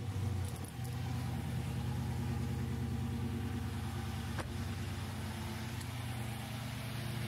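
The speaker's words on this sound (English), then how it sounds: "Now we got our engine running, and if you notice, it started up clean, crisp, no issues" A freshly cleaned car engine running at a steady idle, a constant low hum with a brief change near the start and one sharp click partway through, with no talk over it.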